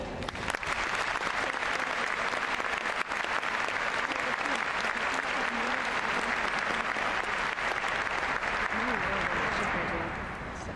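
Sustained, dense applause at a 2012 Carlson School of Management commencement as the keynote speaker is welcomed, a large crowd clapping steadily and loudly for about ten seconds before it fades.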